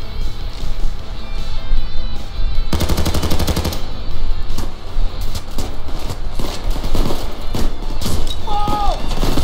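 Rapid automatic rifle fire from a Swiss rifle in the PayDay 2 heist shooter, loud bursts running almost continuously amid other game gunfire and clatter, with a brief electronic beep near the end.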